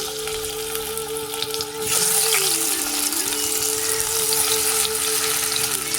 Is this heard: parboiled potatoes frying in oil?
yes